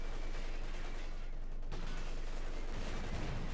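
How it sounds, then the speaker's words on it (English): A shootout in the World War II strategy game Company of Heroes 2, with faint, continuous rattling gunfire and scattered shots under a busy battle ambience. "Bit of a shootout there."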